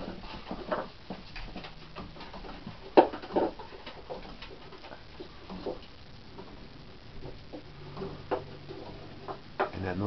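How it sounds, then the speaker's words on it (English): Wooden gear clock's escapement ticking steadily at close range, a faint regular tick-tock under scattered household noises and barking dogs in the background. "That's the escapement."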